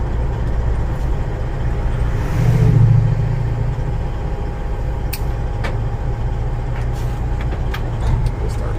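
A truck's engine rumbles steadily and loudly close by while it hauls a Volvo, a low continuous drone with a brief swell of revving and a few sharp hiss-like clicks, no talking.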